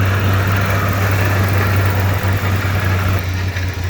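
A 1986 Ford Ranger truck's engine idles steadily, a loud close rumble with a strong low hum and even mechanical chatter throughout, no voices.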